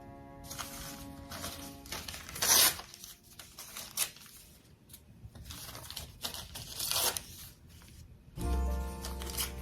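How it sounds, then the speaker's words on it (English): Paper being torn by hand for a Christmas craft with Mod Podge, a series of close, crisp rips and crinkles separated by short pauses, one loud tear near the start and another toward the end. "Tear it again. And again."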